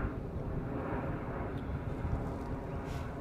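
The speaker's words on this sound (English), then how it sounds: "Every 5 minutes there's a plane flying overhead." An airplane flies overhead above the Canadian prairies, a steady, broad low roar that holds even throughout, heard outdoors with no talking.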